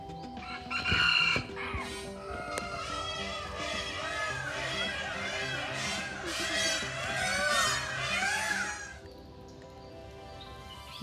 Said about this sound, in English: These peacocks are dancing in the aviary here.